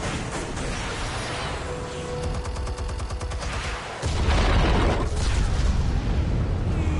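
Explosives detonating in a video game, loud bursts and rumbling blasts layered with rapid gunfire-like crackle, swelling into a heavier, sustained deep roar halfway through.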